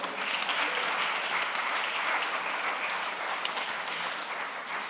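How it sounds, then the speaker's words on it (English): Audience applause at a climate change summit after a round of pitches, a dense, steady wash of many hands clapping that holds evenly loud throughout with no voices over it. "Another round of applause for everybody that pitched today."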